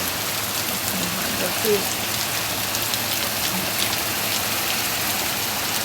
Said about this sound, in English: And it's cold rain, isn't that crazy?